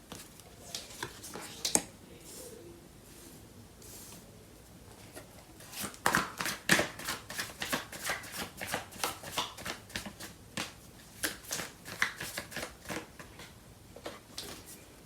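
Tarot cards being shuffled by hand, a steady stream of soft, crisp flicks and riffles, fairly close and quiet, with bursts of denser card snapping in the middle.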